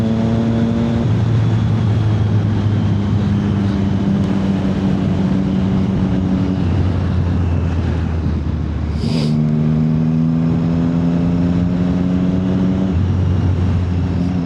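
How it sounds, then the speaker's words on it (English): A motorcycle engine revs hard and upshifts without the clutch, each gear climbing in pitch before a quick throttle cut and a drop into the next gear, loud and close with no talking. "off the throttle, flick up a gear, back on the throttle like that"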